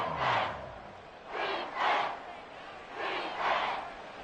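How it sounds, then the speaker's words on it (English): A stadium crowd in a Madden football video game roars in rolling waves, rising and falling about every second and a half, loud and steady across the whole stretch. "this crowd doing their best to make a lot of racket"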